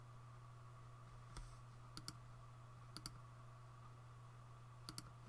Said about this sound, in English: And Mary, I'm just typing a comment to you.